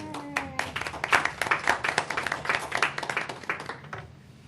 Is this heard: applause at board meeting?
yes